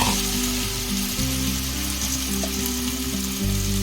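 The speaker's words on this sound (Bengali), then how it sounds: "এরপর আমি ওই তেলেই আলুগুলোকে ভেজে নেব।" Potatoes frying in hot oil left over from frying fish heads, a steady close sizzle and bubbling with faint stirring, no voices.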